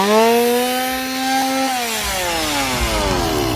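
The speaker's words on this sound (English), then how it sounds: "Do you hear chainsaws? I hear chainsaws." Chainsaws run at Halloween Horror Nights on the 2025 opening night at Universal Orlando Resort, giving a loud, continuous revving whine whose pitch sags and climbs, with no talk over it.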